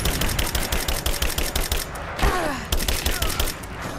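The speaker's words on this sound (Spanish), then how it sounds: "Ah, vale, que es una fusil de asalto." Rapid assault rifle fire in Rise of the Tomb Raider, loud, dense bursts with a short pause before more shooting resumes.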